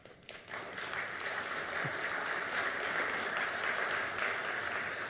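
Steady applause from an audience, many hands clapping together and holding at a constant level for several seconds.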